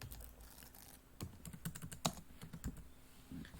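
Fingers type on a computer keyboard, a quick burst of clicky keystrokes in an irregular rhythm, close and faint in a quiet room.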